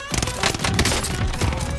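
Rapid burst-fire weapon shots in Call of Duty Warzone, repeated clusters of loud cracks in quick succession that fill the moment, with no talk over them.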